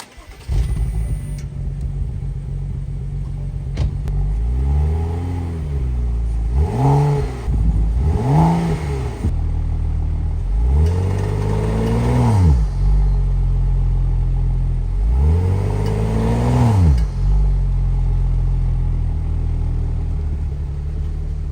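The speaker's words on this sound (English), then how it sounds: "let's start the car up, turn it around, and get some before sound clips" A BMW F30 335i engine idles with a low rumble, then is revved several times, the pitch rising and falling with each push of the throttle, close and loud.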